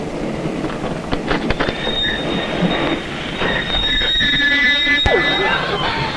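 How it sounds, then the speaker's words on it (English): A train braking to a stop, metal wheels squealing on the rails with sustained high screeches and rolling clatter, loud and close throughout, with no speech. "Why have you stopped the train?"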